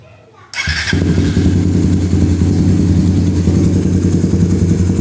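Suzuki Satria F150 motorcycle engine starting after a brief quiet moment, then idling loudly and steadily up close.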